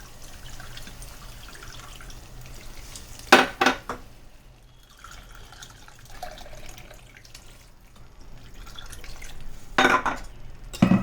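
Water poured into a pan of egg curry with coconut paste and curry masala, a soft running splash with a couple of brief louder pours and faint clinks of the pan.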